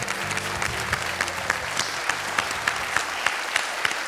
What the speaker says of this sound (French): Les candidats, très applaudis.